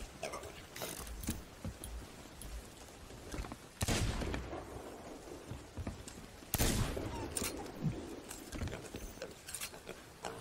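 Pistol and musket shots ring out in the pirate video game Sea of Thieves amid clattering mechanical in-game noise, with a few sharp reports standing out at irregular intervals over a busy, rattling background.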